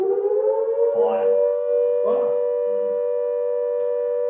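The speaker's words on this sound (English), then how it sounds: "Just got the fire siren going off." A fire siren wails in a steady, sustained tone, holding its pitch throughout, with a few brief rustling sounds nearby.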